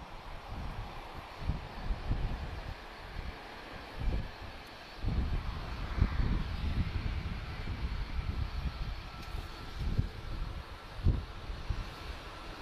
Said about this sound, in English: There's already an A330 taxiing towards us.